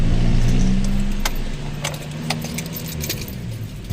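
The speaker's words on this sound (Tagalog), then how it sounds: "Try natin patayin tong engine" Keys jangle close by as a car's engine is switched off with the key, on a car whose brake light stays on with the engine off. The running hum fades under the jingling metal of the keychain.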